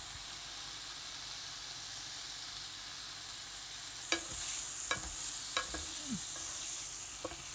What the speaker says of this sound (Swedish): Bryner vi köttet på alla sidorna.